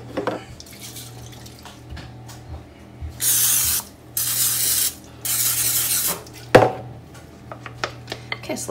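Three hissing bursts of cooking spray, each about a second long, coat muffin tins up close, amid small kitchen clatter and a sharp knock.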